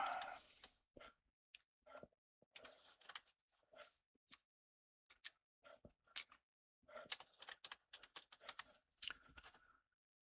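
Uneven keyboard typing while a cycle-start control is set up on a computer, bursts of close key clicks with pauses between them, no talk over it.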